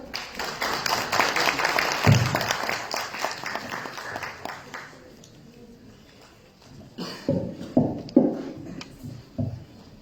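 Audience applause at a book presentation at UPEA in El Alto, Bolivia, fades out after about five seconds, leaving quiet room sound broken by a few scattered taps and coughs.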